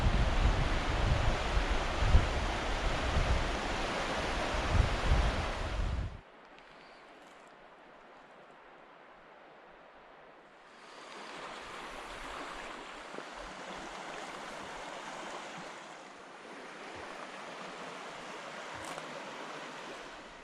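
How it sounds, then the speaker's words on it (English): Welborn Falls in Jasper National Park, a massive waterfall: a loud, broad roar of rushing water at first, then a sudden drop to a quieter, more distant rushing that swells again partway through, with no talking. "the highlight of the day was Welborn Falls, just a massive amount of water coming over that waterfalls"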